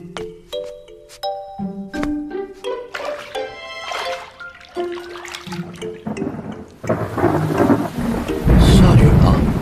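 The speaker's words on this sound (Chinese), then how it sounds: "下雨了" Melodic chime-like tones play first, then rain bursts in and a heavy, booming thunder rumble rolls through the final seconds.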